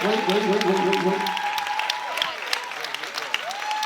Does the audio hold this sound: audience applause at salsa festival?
yes